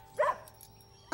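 Two short dog barks, one near the start and another at the very end, with a quiet pause between them, in a children's TV episode.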